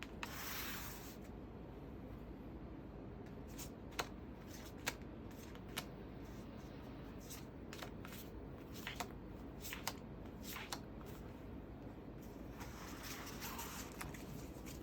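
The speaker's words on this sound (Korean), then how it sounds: "좀 더 카드 세세하게 뽑아 볼게요." Tarot cards are shuffled and drawn in a quiet room, giving a soft, close rubbing and sliding sound broken by occasional light card snaps and taps, with no talk.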